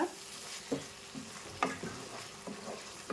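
Tomato paste frying in a pan for rui fish curry, a soft sizzle with a few spatula scrapes and stirring strokes spaced about a second apart.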